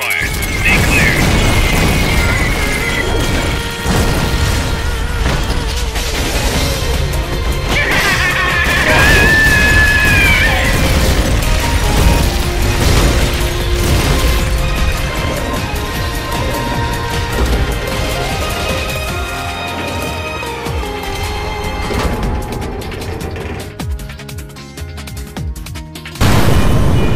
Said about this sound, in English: They're about to commence the requested supporting fire